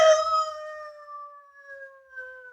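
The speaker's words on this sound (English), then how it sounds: "the three-quarter Irish setter" A three-quarter Irish setter, a well-behaved village dog, lets out a long, sustained howl that starts loud and slowly fades, its steady pitch drawn out alone with no talk.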